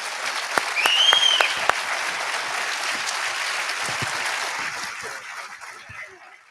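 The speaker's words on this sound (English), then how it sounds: "Can we have a quick round of applause for our panelists?" An audience at the G.O.A.L.S. 2024 fact-versus-fiction panel in Knoxville, Tennessee gives the panelists a round of applause, with dense clapping that peaks early and then fades gradually.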